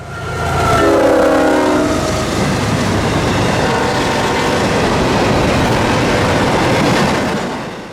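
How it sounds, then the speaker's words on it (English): Hotshot intermodal freight train Q032 rushing past close by in Folkston, Georgia, a loud steady roar of wheels and cars with a horn blast near the start. "Up next was the staple sprinter through Folkston, hotshot intermodal Q032."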